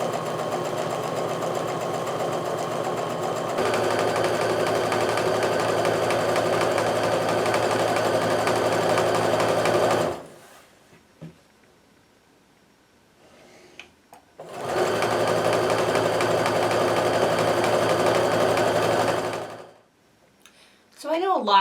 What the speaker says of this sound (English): I'm going to go ahead and sew these down